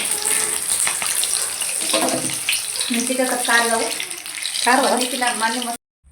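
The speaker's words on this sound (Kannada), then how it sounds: "ಕಾದ ಎಣ್ಣೆಗೆ ಮಿರ್ಚಿಯನ್ನು ಬಿಟ್ಟ ನಂತರ ಈ ರೀತಿಯಾಗಿ ಎರಡೂ ಸೈಡ್ ಚೆನ್ನಾಗಿ ಕರೆಯಬೇಕು" Batter-dipped green chilies for mirchi bajji fry in hot oil, sending up a steady, close bubbling hiss while a voice talks over it, then the clip cuts to silence.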